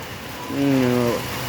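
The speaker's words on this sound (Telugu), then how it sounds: "వాన జాస్తి అవుతుంది ఇంకా లోపలికి వస్తూ ఉంది" Heavy summer rain falls at the Kotilingeshwara temple at Kotilingala as a steady, dense hiss that fills the whole stretch, with a short tonal sound rising briefly over it midway.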